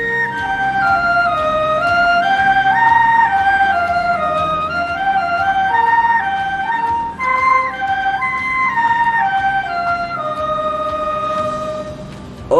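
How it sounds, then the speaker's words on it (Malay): A school wind orchestra's flute section plays a soft, clear melody of sustained notes, steady and fairly loud throughout with no talking. "Bunyi flute ni bagi saya dia lebih lembut, nyaring dan lembut cikgu."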